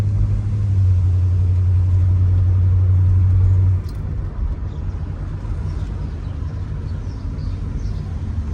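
A 1985 Chevrolet Monte Carlo SS drives along with a steady low engine drone and tyre rumble, a sustained hum fading after four seconds into softer road noise from inside the car.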